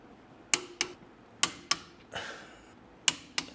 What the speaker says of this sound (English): I got my torque wrench set to 75 foot-pounds.